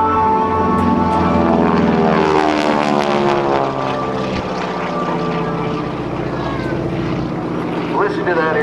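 A propeller airplane with Pratt & Whitney power roars overhead at a naval air station airshow, its loud, throbbing engine note shifting in pitch as it passes, with an announcer talking over it.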